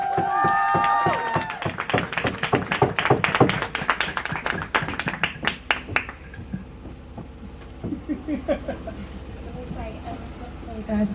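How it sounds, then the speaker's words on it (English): Audience at an evening gathering claps in a burst of sharp, distinct hand claps that thin out after about six seconds into scattered claps and murmur, with other sounds briefly at the start. "let me get a big round of applause for my sister May."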